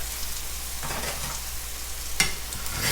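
A fried hoagie sandwich sizzles in a pan with a low, steady hiss, and a spatula scrapes sharply underneath it once near the end. No voices are heard.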